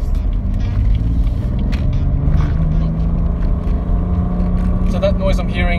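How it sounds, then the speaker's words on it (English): A BMW M3 engine drones steadily from inside the cabin, its induction and exhaust noise a constant low rumble throughout while people talk over it. "So you get real induction noise, real exhaust noise."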